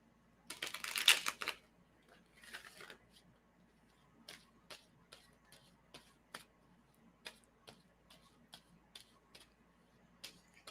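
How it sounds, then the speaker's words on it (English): Tarot cards shuffled by hand in a burst of dense riffling near the start, a shorter flurry after, then a string of sharp, evenly spaced taps and clicks as cards are handled and laid down, close and fairly quiet. "tell me when I should stop shuffling"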